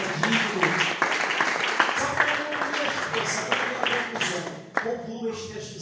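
Church congregation clapping for Jesus during a worship service, a steady crowd of many hands applauding throughout, with voices and a loud sharp clap near the end.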